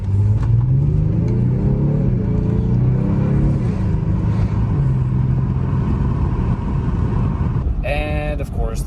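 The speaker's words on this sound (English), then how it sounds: "hopefully you guys got to at least hear a little bit of the engine sound" A Genesis G70 Sport with its 3.3L V6 in sport mode pulls hard, the engine note rising and falling as it revs, loud and close, with a brief whine near the end.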